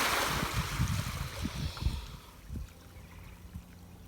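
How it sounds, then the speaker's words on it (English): Water pours and splashes into a cement pan to fill a tortoise mud wallow, a rushing, gurgling flow with sloshing pulses that tapers off into quieter trickles and drips. "And that's how you fill a mud wallow."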